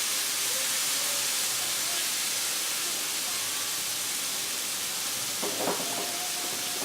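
Food sautéing in a pan as its liquid cooks off, a loud, continuous steamy hiss that holds steady throughout, with a brief clatter near the end.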